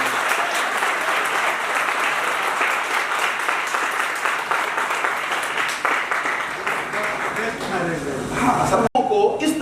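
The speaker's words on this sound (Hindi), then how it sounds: "और एक बार फिर से इन 3 लोगों के लिए जोरदार तालियां।" Long, vigorous audience applause for three people at a seminar result declaration, steady and full for most of the stretch, then a brief dropout before talking resumes at the end.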